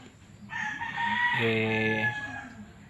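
A chicken crows loudly and close by, one drawn-out call lasting about two seconds, with no talking.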